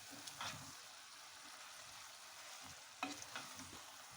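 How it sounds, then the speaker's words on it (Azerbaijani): Fish stew stirred in a pot, two short bursts of scraping and clinking from the spoon set apart by a quiet, low simmer in between. "Və yaxşıca"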